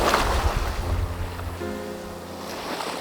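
Ocean waves wash onto a beach in a steady broadband roar, heavy wind buffeting the microphone throughout, no voices.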